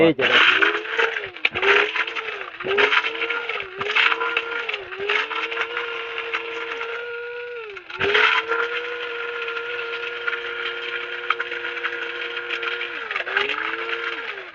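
Small mini blender grinding spices, its whining motor rising and dropping in short pulses before holding a long steady drone, fairly close, with a person talking over it.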